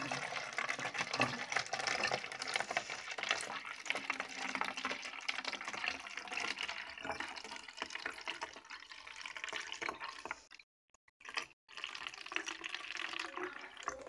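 Water pours steadily and close for a long stretch into a hermit crab cage, a continuous splashing rush that briefly cuts out near the end and then resumes.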